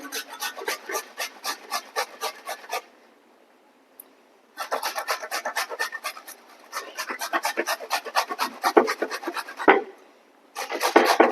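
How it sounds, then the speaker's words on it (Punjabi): Peeled cucumber rubbed against a grater for raita, rapid rhythmic rasping strokes in close, loud runs with a couple of brief pauses, no talk. "ਤੇ ਇਹਨੂੰ ਆਪਾਂ ਰਗੜ ਲਾਂਗੇ"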